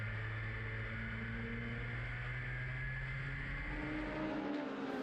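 Pro-4 race cars racing at Meridian Speedway, a continuous loud engine roar with sustained tonal whines shifting in pitch as the cars run close together.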